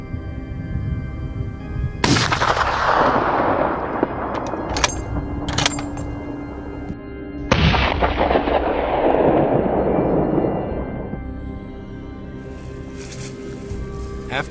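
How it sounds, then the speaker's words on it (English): Gunfire during a wild boar hunt in a swampy valley: two loud, sharp blasts each trailing into a long rolling echo, with a few fainter cracks between them. "The sound of gunfire echoed through the valley"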